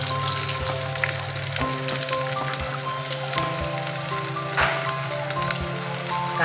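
Onions with curry leaves frying in hot oil in a kadhai, a steady close broadband sizzle running throughout with a low kitchen hum underneath and occasional faint knocks.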